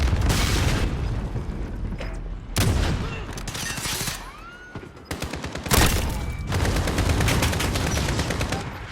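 Gunfire in the Modern Warfare shooter game, with loud automatic bursts and heavy booming shots in several separate volleys, mechanical clicks between them and a brief voice now and then.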